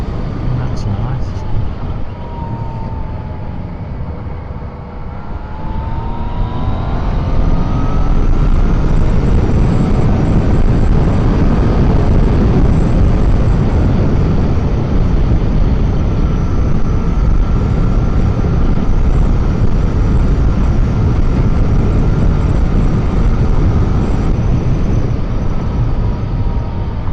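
A 2017 Yamaha MT-09 motorcycle engine drones on a test ride, rising through the revs and then holding a loud, steady roar mixed with wind rush.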